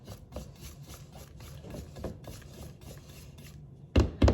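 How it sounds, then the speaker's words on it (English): A spatula scrapes the sides of a mixing bowl of M&M cookie dough in steady rasping strokes, ending in two louder knocks against the bowl. "Now that that is well combined, I'm going to scrape down the sides."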